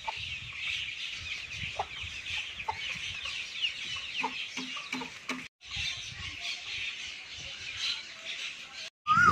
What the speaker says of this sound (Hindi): ये इस मुर्गी के बच्चे हैं छोटे छोटे से।